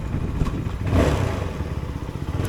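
A CFMOTO 250SR motorcycle engine with an overheating problem rumbles low and steady nearby, with wind buffeting over it and a slight rise in revs partway through.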